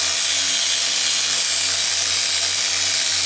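A power polisher grinds abrasive across an engineered quartz countertop to remove scratches, a loud, constant high whirring drone with a steady motor hum underneath, close and uninterrupted.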